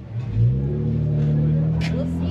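2011 Porsche 911 GT3 RS with a six-speed manual, its engine droning loud and close in a sustained rev with a steady low growl, voices briefly heard over it.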